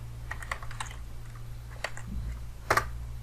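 Typing a short command on a computer keyboard, a quick run of light clicks and taps over a low steady hum, ending with a firmer keystroke.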